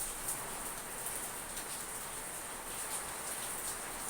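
Steady rainfall hisses without a break, a broad even wash of drops falling nearby at a fairly loud level, with no talking.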